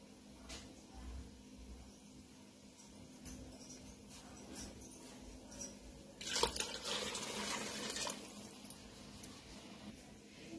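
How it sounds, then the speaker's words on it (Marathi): Water is poured into a pot of rice for Maharashtrian masale bhat, a faint splashing rush lasting about two seconds over quiet kitchen background noise. "या ठिकाणी मी तांदळाच्या 3 पट पाणी घातलेलं आहे"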